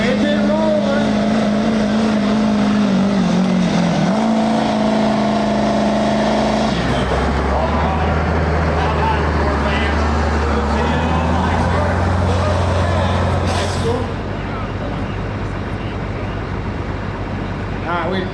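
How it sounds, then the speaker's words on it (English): Midwest Express diesel truck rolling by at a Midwest truck show, a loud, close engine drone that shifts pitch as it labors and passes, settling into a deep steady rumble, with people talking over it. "This is the Midwest Express truck right here. Engine rolling."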